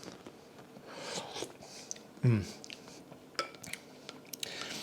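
Italian egg drop soup, stracciatella, tasted from a spoon: soft wet mouth sounds with one sharper slurp or bite, followed by quiet chewing and small clicks, close and faint.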